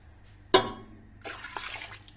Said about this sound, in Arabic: نصبوا الماء اللي يغطي اللحم كما العاده